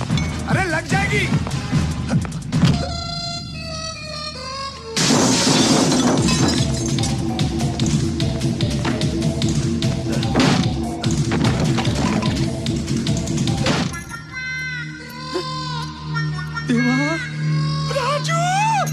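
Glass smashed during a heated fight scene in a Hindi comedy film, Hera Pheri: repeated loud crashes and shattering bursts over a long, noisy stretch, mixed with shouting voices and a busy background.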